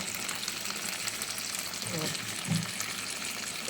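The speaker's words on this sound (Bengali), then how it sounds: "তারপরে একটু সরিষার তেল উপর দিয়ে দিয়ে দেব।" Mustard oil poured over green chillies frying in a pan, a continuous bright sizzle holding steady at close range, with a brief louder spit near the end.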